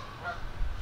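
Geese honk in a brief, moderately loud call that carries over outdoor background noise, heard alone with no talking over it.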